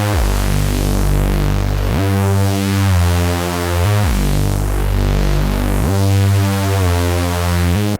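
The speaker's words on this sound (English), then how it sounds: "Today we're making a powerful Reese bass patch with Ableton Wavetable and stock plugins." A thick, droning Reese bass synth made in Ableton Wavetable with a slow wobbling phasing sweep, sustained for several seconds with two note changes, loud and alone.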